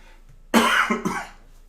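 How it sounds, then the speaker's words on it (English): Two harsh coughs close up, the first strong and longer, the second shorter, then quiet. "And sorry for the cough."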